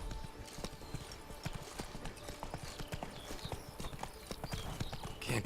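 Hooves of a horse clip-clop in a rapid, steady rhythm in the video game Witcher 3, close and fairly quiet, with faint game ambience underneath.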